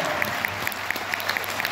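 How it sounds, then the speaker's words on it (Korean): An audience applauds steadily at a pansori performance, a dense wash of many hands with a few sharper individual claps standing out. "여러분 박수 주시죠."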